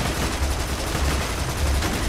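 Rapid bursts of gunfire in the video game Borderlands 2, a steady rattling volley of shots with heavy low thumps, continuous for a couple of seconds.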